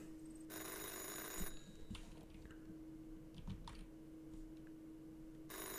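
An old-style telephone bell rings in a forest ranger video game, a loud burst that stops, then starts again at the end, over faint clicks and ambient hum.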